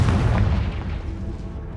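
A Confringo fire spell explodes in a cave in Hogwarts Legacy, one deep, loud booming blast that decays slowly into a rumbling tail.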